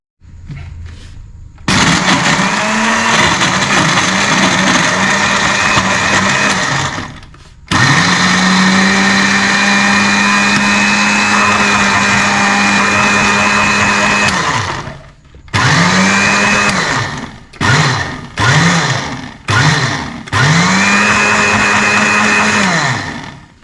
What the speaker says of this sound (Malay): kita blender dia sampai jadi serbuk.